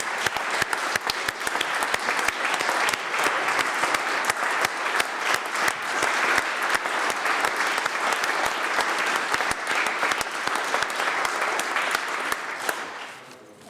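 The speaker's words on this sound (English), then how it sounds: "now to give a round of applause to our great employees" A long round of applause at a Staffordshire County Council meeting, dense steady clapping from many people in the chamber, loud and sustained before tapering off at the end.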